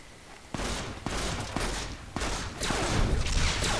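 Heavy gunfire in Fallout New Vegas, a powerful weapon fired in slow single shots about every half second, loud and close with booming tails, no talk.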